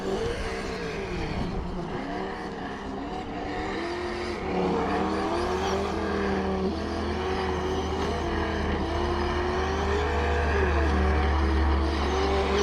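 A Traxxas Slash 2WD VXL remote-control car on 2S power running in a grassy field, its electric motor whining steadily and rising and falling in pitch as it accelerates and slows, with no talk over it.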